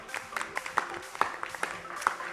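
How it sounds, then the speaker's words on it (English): Light, scattered applause from an audience at a startup pitch event, a handful of distinct claps spread over a couple of seconds, fairly faint and sparse. "We'd like to give one last round of applause for all of the startups"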